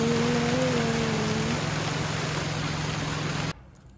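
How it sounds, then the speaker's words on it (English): Rain falls in Bali as a dense, steady hiss of drops with a low hum underneath, then cuts off abruptly near the end. "It's so beautiful when it rains."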